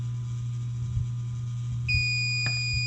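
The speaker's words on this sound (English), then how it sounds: "it will beep really loud and start blinking" Nurture Right 360 egg incubator sounding a loud, steady electronic beep that starts partway through and holds as a sustained high tone over a constant low hum, with a brief click near the end.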